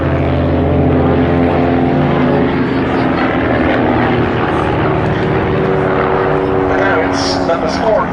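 A display aircraft at the Duxford Summer Air Show pulls vertical into a stall turn, producing a loud, sustained propeller and engine drone with steady tonal hum under continuous commentary from a voice.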